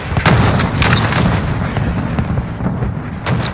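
A cruise missile strike in Call of Duty lands as dense, overlapping booms and rumbling blasts, with sharp cracks of gunfire scattered throughout in a loud, continuous barrage of battle noise.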